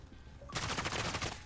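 Machine gun fire in Call of Duty Modern Warfare campaign: after a quiet half-second, a loud sustained burst of rapid shots rattles on to the end.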